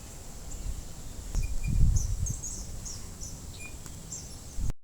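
Faint, high chittering bird calls recur in short bursts over low background rumble and handling noise, the call itself soft and distant-sounding across the recording.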